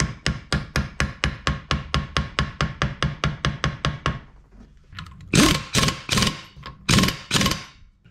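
Steady hammer taps seating a gear on a Shovelhead motorcycle transmission, about sixteen evenly spaced sharp metallic knocks, then a pause and a few louder, heavier blows, close and alone with no talk.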